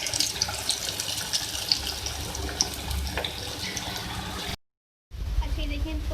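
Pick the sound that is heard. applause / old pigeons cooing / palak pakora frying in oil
palak pakora frying in oil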